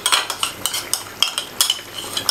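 A spoon stirs cream into chicken achari handi in a pot over a low flame, making a steady run of quick metallic scrapes and clinks, close and clear, with no talking.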